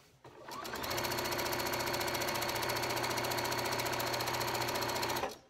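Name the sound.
sewing machine stitching a quilt seam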